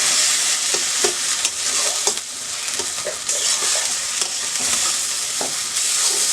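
Taro paste poured into hot oil seasoned with panch phoron sizzles steadily and fairly loudly, with a broad frying hiss broken by small stirring clicks and scrapes throughout.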